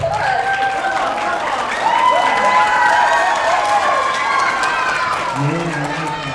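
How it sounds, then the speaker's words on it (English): Audience applause and cheering for visiting author Tony Hillery, a continuous wash of clapping beneath overlapping voices and shouts, with a voice emerging near the end. "Let's give a round of applause."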